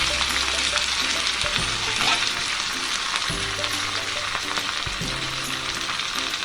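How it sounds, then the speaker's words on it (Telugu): Asafoetida and curry leaves fry on a low flame as a tempering for mango dal soup, making a continuous soft sizzle broken by a few dull stirring knocks. "వేసుకుని లో ఫ్లేమ్లో కొంచెం దోరగా వేయించుకోవాలండి"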